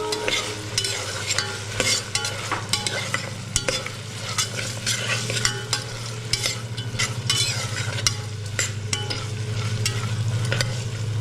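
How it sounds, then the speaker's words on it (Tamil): Green peas with garlic and onion for jeera rice sautéed and stirred in a pan, a steady close sizzle with frequent scraping strokes of the spoon throughout, no talking. "சேர்த்து நல்லா வதக்கிடுங்க."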